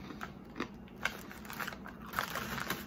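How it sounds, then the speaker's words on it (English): Close, crisp crunching of someone chewing dill pickle pretzels, a series of brittle bites and snaps with no talking. "Pretzels are nice and crunchy."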